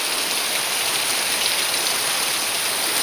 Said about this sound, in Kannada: ಮಳೆ ಬರ್ತಾ ಉಂಟು